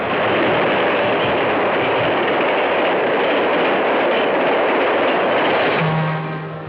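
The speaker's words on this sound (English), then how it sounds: "The modern diesel-driven locomotive speeds across the slender ribbons of steel, hitting a speed of 100 miles an hour." A modern diesel locomotive races along steel rails at around 100 miles an hour, a loud, steady, broadband rumble and roar that holds throughout, with a brief tonal hum near the end as it eases off.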